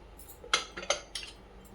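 A spoon clinks and scrapes against a metal pot of khichdo a few times in quick, uneven strokes, close by.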